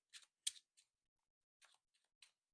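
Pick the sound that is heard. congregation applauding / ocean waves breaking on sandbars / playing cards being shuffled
playing cards being shuffled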